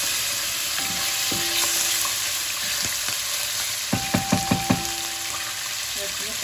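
Meat sizzles steadily in a hot pan for a Turkish zucchini and meat dish; midway a quick run of about five sharp utensil knocks against the pan rises above the constant frying hiss.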